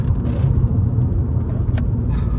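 A 1.9 TDI PD130 diesel car engine drones steadily at close range after a missed shift into third gear, a low continuous rumble holding level with no voices.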